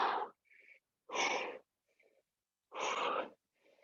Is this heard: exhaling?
yes